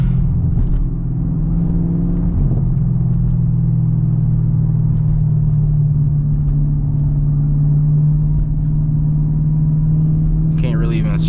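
A black Camaro ZL1 with a six-speed manual drones steadily while driving, its engine a constant low rumble that swells slightly during a brief rev near the start, heard from inside the car without talk.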